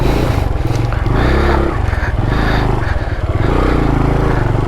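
A motorcycle engine works hard on an off-road hill track, loud and close, its revs rising and falling unevenly with gear strain, and no clear talk.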